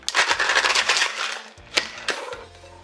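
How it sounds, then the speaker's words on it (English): Ice pounded and shaken hard in a cocktail shaker while mixing an Adam and Eve cocktail, loud rattling crunches in quick bursts with a couple of sharp knocks, close up and with no voice. "get some ice in our shaker and shake this thing up"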